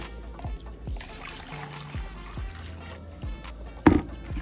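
Water trickling and pouring into a bucket at home, a thin running stream with scattered drips and knocks, fairly close and quiet.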